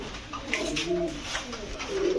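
King pigeons cooing at a pigeon shop, several overlapping warbling coos close by against steady background noise.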